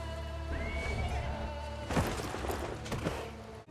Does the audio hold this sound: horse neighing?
yes